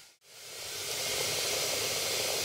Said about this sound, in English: the mixture is starting to sizzle, starting to boil just a little bit